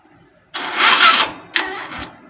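A Motoposh 155 motorcycle engine struggles through a hard push-button start: two loud, close bursts of cranking and sputtering, the first about a second long and the second shorter, with a quiet pause between them.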